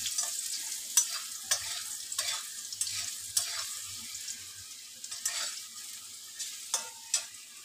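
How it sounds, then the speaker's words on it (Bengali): Potato pieces fry in hot oil with salt and turmeric for a vegetarian khichuri meal, giving a steady soft sizzle broken by sharp scrapes and stirring clatters from the pan. "এরপর আমি আলুটাও একটু নুন হলুদ দিয়ে ভেজে নিচ্ছি।"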